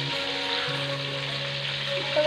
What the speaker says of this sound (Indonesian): Ini goreng ikan